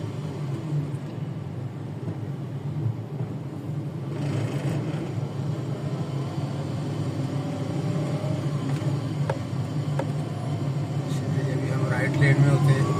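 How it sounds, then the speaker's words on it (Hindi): Slow, congested traffic on Murree Road in Rawalpindi makes a steady low engine rumble with passing vehicles, with someone speaking over it for most of the stretch. "बहुत ही स्लो हो गई है ट्रैफिक यहाँ पर।"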